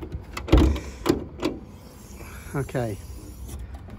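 Electric folding roof on a 1999 Mercedes SLK 230 Kompressor whirring briefly, a short motor whine rising after a man's nearby speech, with faint clicks around it.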